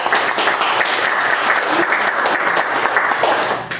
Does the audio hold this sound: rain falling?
no